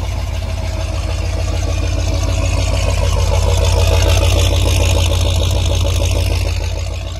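A loud, low 1977 Ford F-250 pickup engine idling steadily up close after sitting about 11 years, a deep rhythmic rumble that holds even for the whole stretch without talk.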